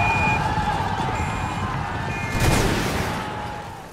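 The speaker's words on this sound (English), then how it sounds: "Machine guns absolutely murdering the Austrians." Dense battlefield gunfire from a video game battle, with machine guns cutting down Austrian troops amid cavalry fighting around a town, a continuous loud clatter of shots with a heavier burst midway and no voices.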